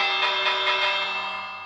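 A bright, resonant village bell in Minecraft rings out with a sustained metallic shimmer that slowly fades, sounding alone without any voices.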